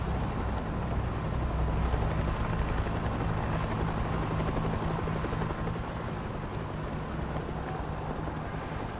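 Helicopter rotor chopping in a video game, a steady loud drone with heavy low-end thrum holding for the full stretch, close and continuous with no talk over it.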